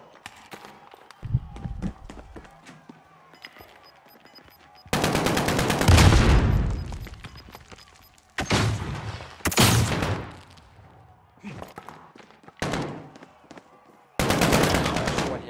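Bursts of rapid gunfire in Call of Duty: Modern Warfare come in several loud volleys separated by quieter gaps, with faint footsteps and ambient noise between them.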